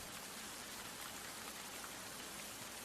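Gentle light rain falling steadily, a soft, even hiss of drops with no other sounds, quiet and continuous throughout.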